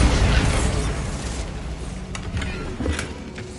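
In Hogwarts Legacy, a Bombarda explosion spell goes off with a loud, rumbling burst that decays into a crackling debris tail, with a couple of smaller pops after it.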